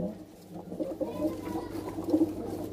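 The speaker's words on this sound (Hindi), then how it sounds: "कितना प्यारा कबूतर है।" Gola pigeons, including a yellow hen and a pale pet bird, coo softly in low, throaty repeated murmurs under steady background noise, with a slightly stronger coo near the end.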